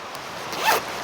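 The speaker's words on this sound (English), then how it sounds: "Not sure how long that zipper is going to last" A zipper pulled open on the zippered storage case of a stainless steel twig stove, one short quick rasping zip close up.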